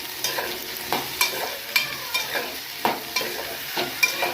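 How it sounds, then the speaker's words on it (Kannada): Green tomatoes fry in hot oil with a continuous close sizzle, while a spatula scrapes and taps the pan about every half second, with no talking. "ಇದನ್ನೆಲ್ಲ ಹಾಕಿ ಒಂದು ಮೂರರಿಂದ ನಾಲ್ಕು ನಿಮಿಷ ಇದು ಎಣ್ಣೆ ಒಳಗೇ ಫ್ರೈ ಆಗಲ್ರಿ"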